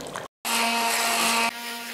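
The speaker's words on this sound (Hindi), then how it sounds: "अब इसको मशीन चला के हम इसको पीस लेते हैं।" A kitchen grinder machine whirs loudly as it grinds cooked lentils and mutton for daleem. A brief cutout comes first, then a steady high-pitched motor whine runs for about a second before settling into a quieter hum.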